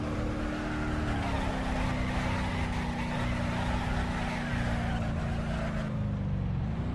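A car drifting in the BeamNG.Drive driving game, its engine holding a steady droning pitch that dips slightly near the end, with tire and road noise underneath, continuous and moderately loud.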